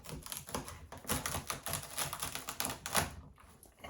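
A knife chops rapidly through celery, trimming off the ends on a cutting board, a dense run of sharp close-up clicks and taps in quick irregular rhythm.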